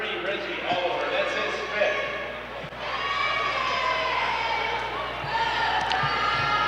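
Crowd noise at a high school basketball game between California and Salem on a Monday after Thanksgiving: a steady, loud wash of voices and shouting fills the gym with scattered ball bounces and squeaks underneath, while an announcer talks throughout.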